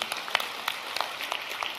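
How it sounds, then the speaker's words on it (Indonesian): A church congregation claps during a Christian sermon, a fairly soft spread of applause with distinct individual claps standing out at an uneven pace. "Yang setuju berikan tepuk tangan yang meriah."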